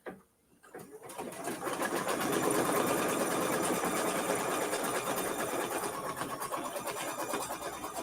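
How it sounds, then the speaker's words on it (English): A sewing machine runs a continuous basting stitch across a quilt, a fast, even mechanical chatter that starts after a brief pause and holds steady and close with no talking. "so now it's going to do a basting stitch to baste it down"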